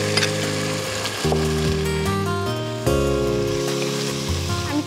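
Chopped tomato dropped into a pan of spiced chicken and frying onion. A continuous sizzle runs under prominent background music, with no voices.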